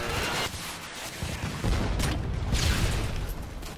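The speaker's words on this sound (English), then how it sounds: "Call of Duty artillery warfare." Artillery fire in Call of Duty: Modern Warfare 2 arrives as rolling, muffled booms and a continuous roar of battle, with bursts swelling and fading over a few seconds.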